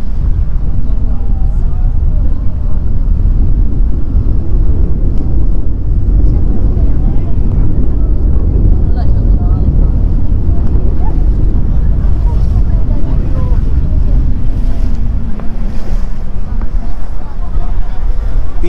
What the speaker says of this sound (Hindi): निकल पड़ी है जी बोट अपनी 15-20-25 मिनट की राइड पे।